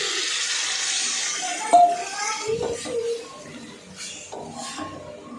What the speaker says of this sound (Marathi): पाणी टाकून घेऊ